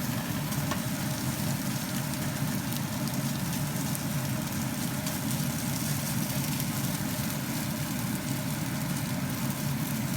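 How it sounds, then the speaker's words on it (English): Shrimp stir-frying with garlic and ginger in a hot pan, a loud continuous sizzle close up, dense and even throughout with faint stirring, no talking. "The aroma of the garlic comes out, so I'm going to add in the shrimp."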